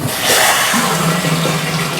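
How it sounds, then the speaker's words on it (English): Cool water runs steadily into a brewing vessel for a pumpkin rum wash, a broad continuous rush of pouring and filling that stays loud and even throughout, with no talking over it. "I want to finish filling this up with water"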